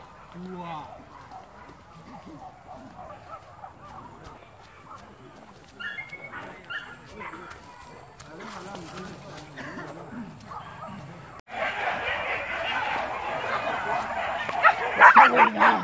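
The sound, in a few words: hunting dogs barking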